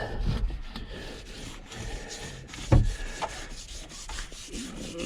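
A wet cloth scrubs along the grain of a wooden surface, a steady series of back-and-forth rubbing strokes with a few knocks, close and fairly loud.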